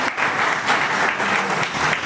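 Applause fills a retirement felicitation ceremony at a Mulund bus depot, a steady dense clapping from the gathered crowd that holds loud and even for about two seconds with no pause.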